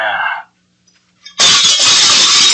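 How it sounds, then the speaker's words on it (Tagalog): A plate slips from its chain and crashes down, a sudden loud shattering burst that spreads into a sustained clatter of breaking pieces after a brief quiet gap that follows a voice. "Ate, nahulog ang pinggan."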